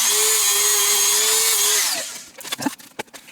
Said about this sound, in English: while I've got the Dremel out, I'm just going to do the base of this as well.